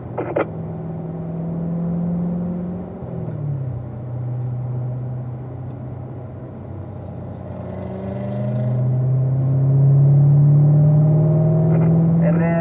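A race car pulls down a track straightaway in fourth gear, its engine a steady droning hum that rises in pitch and grows louder toward the end, heard up close from on board.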